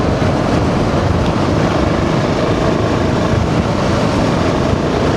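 A BMW G650 XCountry motorcycle cruises along a road, its engine drone buried in loud, steady wind rush and road roar that stay constant throughout, with no talking.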